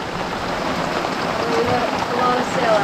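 Rain falls on a sailboat in the open ocean as a steady, close hiss of drops patters across the deck and sails, with a continuous wash underneath.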